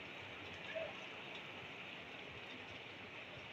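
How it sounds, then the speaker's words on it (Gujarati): Steady rain falls outdoors during an unseasonal thunderstorm, a continuous even hiss of drops on surfaces with no breaks, heard alone at a moderate, fairly soft level. "ગાજવીજ સાથે વરસાદ ચાલુ થઈ ગયો છે"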